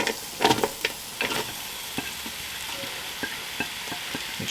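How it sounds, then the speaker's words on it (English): Onions sizzle and crackle as they hit hot oil in a Ninja Foodi pot, with a few sharp scraping and stirring knocks from a rubber or silicone spatula over the steady frying hiss. "you'll hear a bit of a sizzle from the onions and as they hit the oil."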